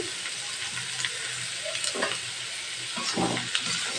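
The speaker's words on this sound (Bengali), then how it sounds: "এটাকে এখন ভালো করে আমি কষিয়ে নিচ্ছি।" Vegetables frying with spices in a pan, a steady hiss of sizzling oil broken by occasional spatula scrapes and stirs.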